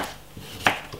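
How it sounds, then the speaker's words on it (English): Knife chopping cucumber with a sharp blade: a single crisp, close cut stands out against quiet kitchen background, with a couple of softer taps around it. "and I'm cutting them"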